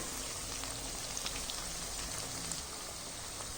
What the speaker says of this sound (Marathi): तर इथे बघू शकता आपण लालसर होईपर्यंत छान असं तळून घेतलेलं आहे